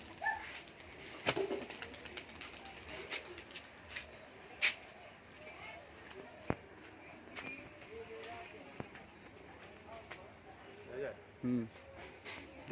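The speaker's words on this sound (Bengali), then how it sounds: "এটা নীলা পায়রা" Blue pigeons at a loft in a busy outdoor setting, with pigeon cooing and scattered flutters and bird calls over steady background noise, while people talk faintly nearby.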